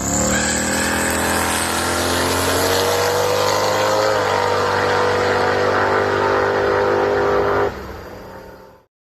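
A Ford Falcon drag car launches hard at a test spot, its engine roaring loud and close with rising revs for several seconds before the sound cuts off abruptly near the end.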